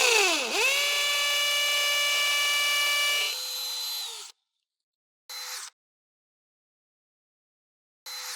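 A DeWalt DCD805 cordless hammer drill in hammer mode bores into concrete with a 5 mm bit, a loud steady whine lasting about four seconds before winding down, followed by two short bursts of motor noise.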